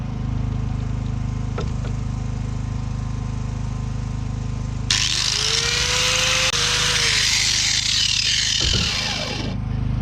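Harbor Freight $9 grinder biting into wood, a loud abrasive roar that kicks in partway through over a constant motor hum, holding for several seconds before cutting off.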